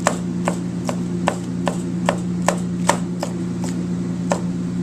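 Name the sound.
knife julienne-cutting a pepper into thin strips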